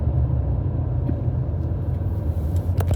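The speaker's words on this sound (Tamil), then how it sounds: "பாருங்கள் எவ்வளோ டிராஃபிக், எவ்வளோ கொஞ்சம் எவ்வளோ கூட்டமாக இருக்குது" Heavy road traffic outside Riyadh domestic airport, a constant low rumble of car and bus engines, close and loud, with no talk.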